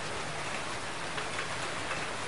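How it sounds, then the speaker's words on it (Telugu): Heavy rain pours down in a dense, unbroken roar of drops striking surfaces, steady and close throughout, with no voices. "పెద్ద వర్షం"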